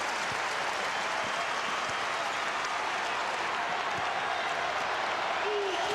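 Basketball crowd at the University of Kansas during a 2000 Iowa State at Kansas NCAA game, cheering and applauding in a sustained, loud, dense roar of clapping and shouting throughout.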